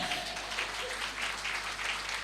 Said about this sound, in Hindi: यस, तालियां बजा दें।